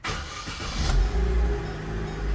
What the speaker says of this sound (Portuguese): Vou dar uma partidinha nele aqui pra vocês verem. Pega de primeira.